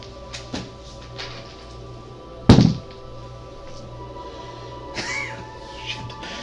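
A die or dice rolled on a table during a tabletop role-playing game, landing as one sharp, close thud that decays quickly over a quiet room hum, with faint knocks before and after.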